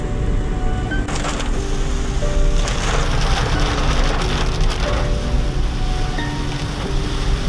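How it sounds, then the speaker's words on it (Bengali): Heavy monsoon rain pours steadily on a car in deep forest, a dense, constant hiss, with faint tonal sounds drifting through the downpour. "বাইরে তুমুল বৃষ্টি, ভেতরে আমরা।"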